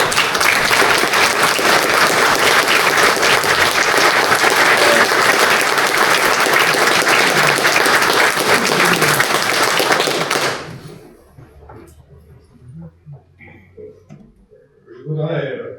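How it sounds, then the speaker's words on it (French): A municipal council meeting in France breaks into sustained collective applause lasting about ten seconds, dense and steady before cutting off sharply, followed by quieter room sounds and a voice beginning to speak. "je pense que ça vaut un applaudissement collectif pour tout ce qu'il a fait, tout ce qu'il représente"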